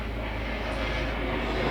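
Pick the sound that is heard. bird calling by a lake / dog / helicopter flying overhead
helicopter flying overhead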